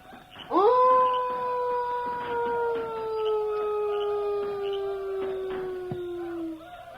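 A man imitates a wolf howl as a call to a Cheyenne chief: one long, loud, close howl that slides slowly downward and holds for about six seconds before cutting off.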